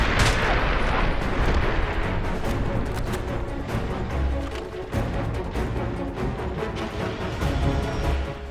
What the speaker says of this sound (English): Now that we've gotten closer to Pomerov, he's apparently firing on us with missiles.